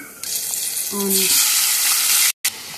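Fenugreek powder, turmeric, mustard seeds and cumin sizzle and crackle in hot oil in a pan for an egg pulusu curry, a steady bright frying hiss close by with brief tonal clatter, no talk.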